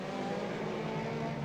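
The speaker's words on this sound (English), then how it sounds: "Number 6 goes through, that being Lu Longyin, the monkey racing car" Car number 6 runs through during the first free practice of the Macau Roadsport Challenge at the 2024 Macau Grand Prix, a steady, distant engine drone that stays faint and even across the brief moment.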